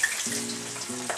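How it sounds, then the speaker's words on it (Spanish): Plantain slices for tostones fry in hot oil, a soft continuous sizzle close by with faint stirring, and no voice over it. "Nadie tiene tiempo de estar friendo un tostón uno a uno."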